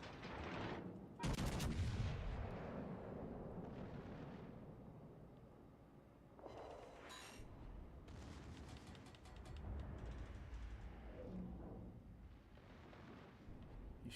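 Heavy battleship guns fire in World of Warships, with a loud broadband blast early on and further booming shots and rumbling impacts through the rest of the naval battle.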